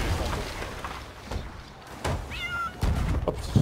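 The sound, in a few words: cat meowing in a video game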